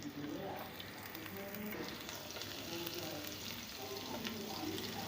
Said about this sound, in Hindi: अब हम इसमें बारीक चॉप किया हुआ लहसुन डाल देंगे।